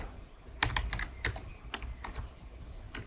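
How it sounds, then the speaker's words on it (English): Quiet, close clicks of a computer keyboard being typed on, a short burst of irregular keystrokes with no talking. "So we double click and we just type stepped"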